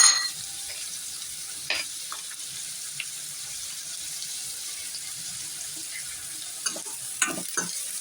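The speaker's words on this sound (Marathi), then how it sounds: "तर मस्त असा कांदा आपण आता हा छान असा गोल्डन करून घेऊया." Onions fry in a pan for kabuli chana pulao, giving a soft steady sizzle with a few sharp scrapes and clinks of a spoon stirring, heard close, fairly quiet and without talk.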